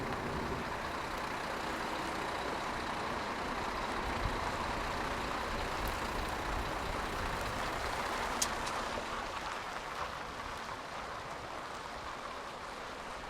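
A Denby Eco Link lorry manoeuvring around a test track gives off a steady, fairly close engine rumble and broadband road noise, holding level throughout with a brief sharp click near the end.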